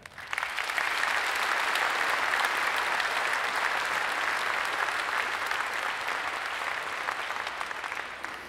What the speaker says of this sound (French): Je vais donc vous demander d'applaudir cette fois-ci toute l'équipe municipale.